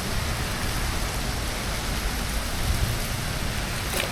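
Steady rain falls during a bass fishing trip at a Tennessee dam, a dense, even hiss of drops hitting water and surfaces, unbroken and moderately loud, with no voices.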